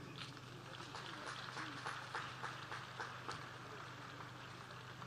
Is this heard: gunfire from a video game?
no